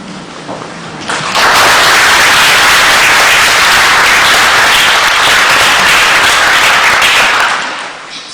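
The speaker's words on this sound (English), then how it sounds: "It isn't necessary to applaud after every poem" A poetry reading audience breaks into a dense wave of clapping after a poem at Hayden Carruth's last public reading. It swells quickly, holds steady and loud for about six seconds, then tapers off at the end.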